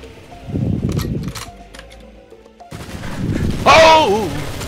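Crossfire in the GoldenEye: Source video game, with bursts of rapid gunfire and clattering shots in two loud clusters, the second overlapped by a shouting, wavering voice.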